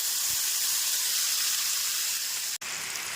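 A steady, close hiss of ginger and green chili paste sizzling in hot oil runs throughout, broken by one sharp click near the end.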